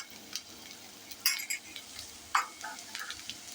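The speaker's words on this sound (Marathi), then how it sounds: "आता याच्यामध्ये आपण एक छोटा कांदा मी घेतलेला आहे, तो घालूया आणि हा परतून घेऊया." A small chopped onion sautéing in a pan for creamy white sauce pasta: a quiet, steady sizzle broken by a few sharp clinks and scrapes of a utensil stirring against the pan.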